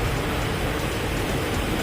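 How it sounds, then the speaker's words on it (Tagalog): Steady rain pours during a motorcycle road trip to Quezon through flooding, a dense, even hiss that fills the scene without pause and without voices. "Papahuma kami ng ulan."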